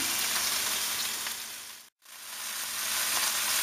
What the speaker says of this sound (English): I hope you can hear that sizzle that's going.